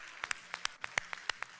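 Sparse, distinct hand claps from a conference audience during an opening session, about a dozen sharp claps in an uneven rhythm, fairly faint and without speech.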